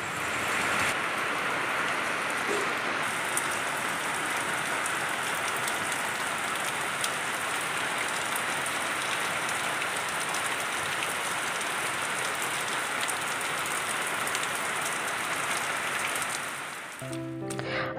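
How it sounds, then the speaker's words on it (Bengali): Heavy rain from the first summer rainstorm pours down steadily, a dense, loud, continuous hiss of drops on surfaces that holds unbroken for the whole stretch, with no voices over it. "প্রচণ্ড মেঘ করে একদম তুমুল বর্ষণ হচ্ছে"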